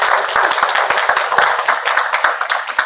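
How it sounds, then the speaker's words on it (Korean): An audience at the 2022 Korea Agriculture Expo talk concert claps for three guests, a bright, close, continuous patter of many hands with no pauses. "다시 한번 큰 박수 부탁드립니다"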